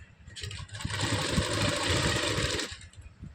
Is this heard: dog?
no